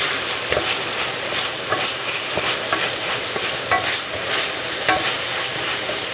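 Chorizo frying in oil in a pan and being stirred, a loud, continuous crackling sizzle with periodic scrapes and taps of a spoon against the pan, no talking.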